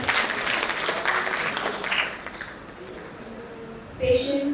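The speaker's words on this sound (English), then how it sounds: "Round of applause for her." An audience at a college induction programme gives a round of applause, a burst of clapping that fades after a couple of seconds before a speaking voice comes in near the end.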